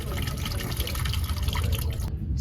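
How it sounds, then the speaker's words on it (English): Hypo clear solution for black-and-white film processing poured out of a film developing tank, a steady splashing liquid pour that stops abruptly near the end, with nothing else in the background. "we're dumping out the hypoclear"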